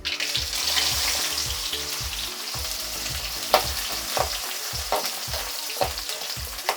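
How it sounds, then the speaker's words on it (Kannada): Onions frying in oil in a pan with mustard seeds and cumin for a North Karnataka style brinjal palya. A steady, close sizzle runs throughout, with repeated sharp scrapes and taps of a spoon stirring. "ಇದಾದ್ಮೇಲೆ ಅಕ್ಕ ಈರುಳ್ಳಿ ಹಾಕಬೇಕು"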